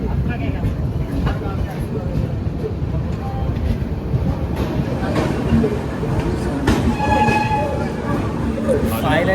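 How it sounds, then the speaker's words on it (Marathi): A passenger train nears Kamakhya station after a stop at a crossing, giving a steady close rumble and rattle that continues throughout with a few sharper clanks. "जसं स्टेशन जवळ आलं तसं पण क्रॉसिंगला थांबली होती ट्रेन"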